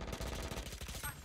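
Rapid automatic gunfire from a gun in a first-person shooter video game, a dense rattling burst of closely spaced shots at moderate level.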